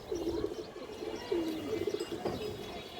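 Soft, low cooing of a male silver pigeon repeats in short throaty bursts, fairly close, with faint chirps and light background noise.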